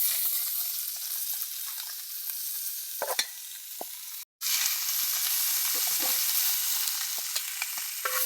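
Mustard seeds and curry leaves sizzle in hot oil alongside dried red chillies, a steady bright crackle with a few sharper pops, briefly cut off for a moment before resuming.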